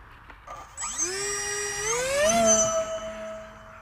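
Electric motor and propellers of a Reptile Dragon 2 RC plane spin up from near silence into a rising, steady whine during takeoff, pitch climbing then holding as the plane pulls away outdoors.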